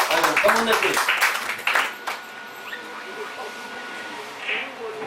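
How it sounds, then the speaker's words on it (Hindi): A short, lively burst of audience clapping for a woman at a herbal products boot camp in Manali, loud for about two seconds and then dying away into near-quiet. "मैं चाहूंगा मैडम के लिए एक जोरदार ताली"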